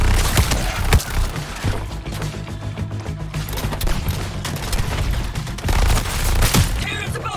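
Dense, rapid booms and crackling blasts of cannon fire in the video game Suicide Squad: Kill the Justice League fill the whole stretch, loud and continuous, with a few heavier thumps standing out.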